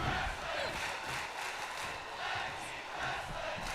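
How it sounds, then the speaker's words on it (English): A crowd chanting in the WWE 2K wrestling video game, a faint, rhythmic roar of massed voices rising and falling in the background. "You hear the crowd calling for tag team wrestling"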